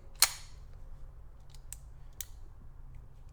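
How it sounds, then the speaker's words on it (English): A dry double-action trigger pull on an unloaded CZ 75B Omega pistol gives one sharp metallic snap near the start, then two fainter clicks, close up in a quiet room. "First trigger pull, obviously long, heavy double action."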